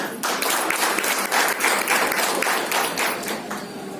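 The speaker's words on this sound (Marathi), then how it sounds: "टाळ्या होईल" Applause at a women's business meeting in Badlapur, a dense burst of clapping from an audience lasting several seconds and fading slightly at the end.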